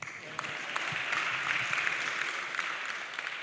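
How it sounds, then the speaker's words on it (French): Applause from an audience at a lecture on agriculture and farmers' health, a steady, moderately distant wash of many clapping hands lasting throughout. "On applaudit Bernadette."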